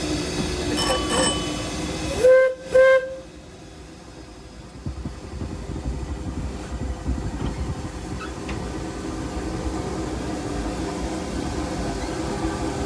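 The C.K. Holliday steam train runs on the rails, heard from the tender: a steady rumbling clatter of wheels and carriages, with a brief tonal squeal early on before settling into continuous rail noise.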